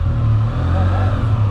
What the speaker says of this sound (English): Listen to, they have a new Akro exhaust for them now.